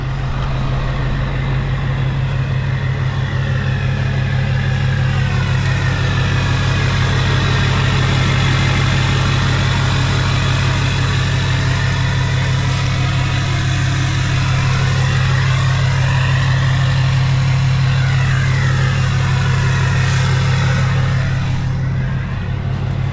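Hummer with a Duramax diesel engine idles after its first start in two and a half years, a steady low rumble that runs unbroken and loud throughout, alone.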